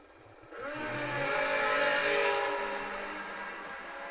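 A dragster and a motorcycle launch down a drag strip, a sudden roar building to a loud high-revving wail that peaks and fades slightly as they race away, heard from the track side.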